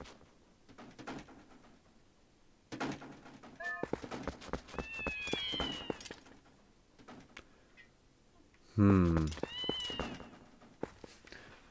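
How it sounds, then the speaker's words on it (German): A cat meows in the video game Zelda Twilight Princess: a few short, rising cries, repeated at intervals amid faint game sounds, with one louder, closer thud-like burst near the end. "Du Kater, du."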